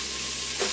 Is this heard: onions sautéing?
yes